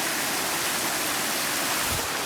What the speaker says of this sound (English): This is about the fifth waterfall that I've came through